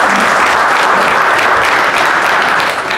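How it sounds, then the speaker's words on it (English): A church congregation applauds, a loud, dense and steady round of clapping that continues throughout before easing slightly at the very end. "Round of applause for him."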